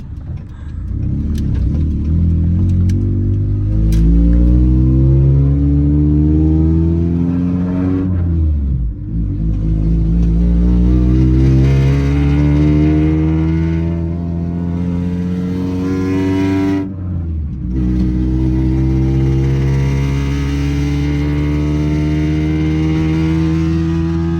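A loud car engine runs close by with no power steering, revving up and down in long rising and falling sweeps, with brief dips between the revs and no talk over it.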